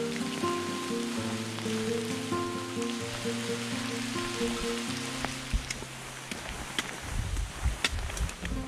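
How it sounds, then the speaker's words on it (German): Steady rain pattering on a foggy hiking trail along the Welterbesteig in the Wachau, Lower Austria, a continuous hiss of drops heard under a sustained musical drone that fades out toward the end. "Jetzt haben wir die Kombination aus Nebel und Regen."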